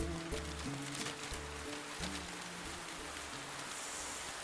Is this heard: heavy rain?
yes